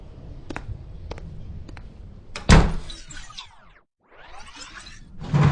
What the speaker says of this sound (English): And close the door as you leave.